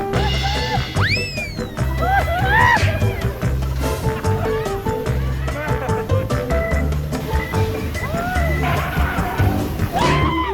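Bumper cars driving and crashing at Dream World amusement park, a loud continuous mix of ride noise, squealing tones, music and shouting voices, with people talking over it.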